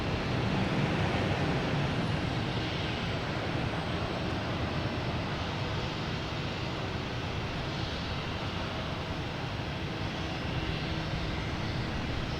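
A Southwest airliner takes off at Boston Logan Airport, its jet engines producing a steady, broad roar that stays strong and even throughout, heard from the ground at a distance.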